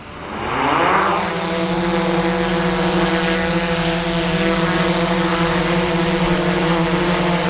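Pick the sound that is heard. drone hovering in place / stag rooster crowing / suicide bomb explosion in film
drone hovering in place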